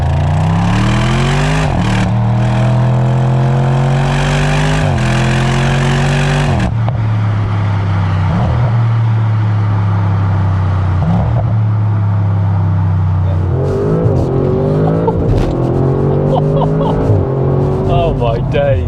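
A tuned 700hp 2020 Audi RS6 accelerates hard, its exhaust rising loudly through several gears with clear shifts between them. A deep rumble holds in the middle, then revs climb again while people talk inside the cabin.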